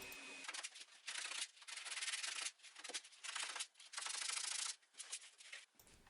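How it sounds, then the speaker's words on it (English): Hand sanding on a wooden shelf: repeated rough scratchy strokes in uneven bursts with brief pauses, close and fairly loud, no voices. "right after I'm done sanding the top shelf"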